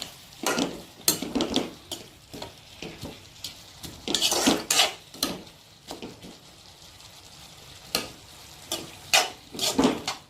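Capsicum stir-fries in a metal pan for cabbage rice, with repeated loud clanks and scrapes of a spoon against the pan in irregular bursts over a faint sizzle.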